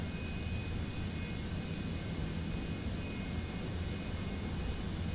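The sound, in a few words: airplane taxiing in video game Microsoft Flight Simulator 2024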